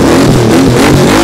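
A Royal Enfield GT Continental 650 motorcycle with a full-system exhaust revs hard and loud right up close, a thick, throaty roar rising and falling over a brief burst, with no talking.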